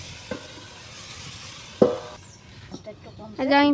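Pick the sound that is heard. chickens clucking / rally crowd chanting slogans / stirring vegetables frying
stirring vegetables frying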